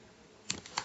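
Two quiet, close key taps from a computer keyboard as C++ code is typed, set against a faint, steady room hush.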